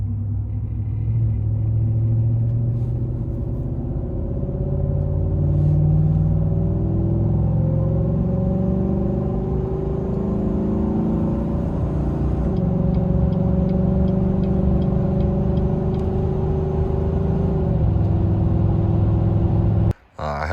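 A 2019 Chevrolet Silverado pickup fitted with an aftermarket cold air intake gives a deep, rumbling engine drone that swells and falls as it revs. Loud and sustained for about twenty seconds before cutting off abruptly.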